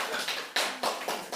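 A handful of audience members clap briefly during a Buddhist dharma lecture on the Avatamsaka Sutra: four or five sharp, separate claps in an uneven rhythm, close and fairly soft, with no speech.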